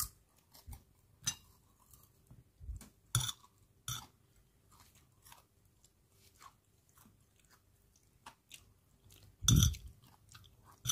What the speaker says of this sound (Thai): กินให้เห็นชัดๆนะคะนี่อร่อย